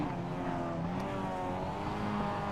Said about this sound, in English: The revs are rising here for the second race of the night.